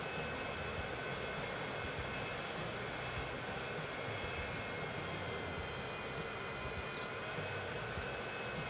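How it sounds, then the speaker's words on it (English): A plane's engine in Transport Fever 2 gives a constant, even drone with a faint high whine on top, heard alone at moderate distance. "It's a beautiful plane."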